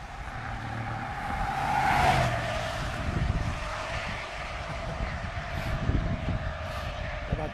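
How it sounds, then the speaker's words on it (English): A truck passes along a wet road beside a rumble strip full of water, its steady roar and tire hiss swelling as it nears and then easing off, loud and continuous. "another truck."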